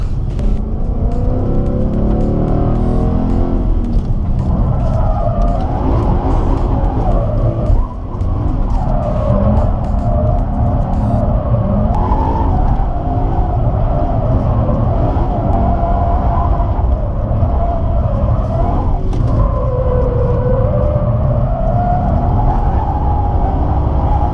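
A professional driver drifts a car, with the engine droning loudly and steadily throughout, its pitch rising and falling as the throttle is worked and the tires slide, all close and with no talking.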